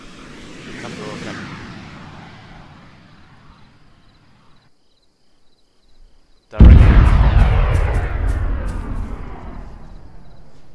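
Cruise missile explosion in the video game Arma 3: a quiet rumble fades to near silence, then a sudden loud boom erupts and rolls on with crackling debris and sharp pops as it slowly decays.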